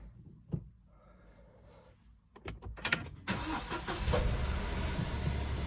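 A Suzuki SX4 S-Cross car engine cranks with a few sharp starter clicks, then catches and settles into a steady idle right after a spark plug replacement, heard close and alone.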